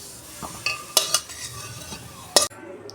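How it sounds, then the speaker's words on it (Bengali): Poppy seeds dry-roasting in a pan while being stirred, with soft scraping and a few sharp clinks of the utensil against the pan, close up and brief. "পোস্তটা আমি শুকনো খোলায় একটু ভেজে নেবো হালকা করে"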